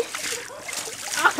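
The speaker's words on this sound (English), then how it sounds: "I splashed him like crazy and then left my hand there." Water splashed by hand near a beluga whale at Red Bay, Labrador, a few choppy close splashes and sloshes with cold water, voices talking over it.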